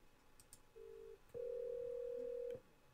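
An office desk telephone rings out after dialing extension 102, giving a short tone followed by a longer, steady electronic ring tone. Both tones are clean and quiet, with faint clicks around them and no talk.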